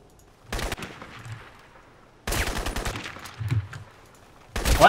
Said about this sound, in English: I swear to God, I shot him.